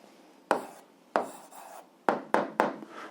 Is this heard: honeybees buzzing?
no